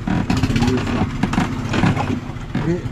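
A boat's engine on the water struggles to push ahead, a steady, labouring low rumble that runs throughout the clip. People talk over it.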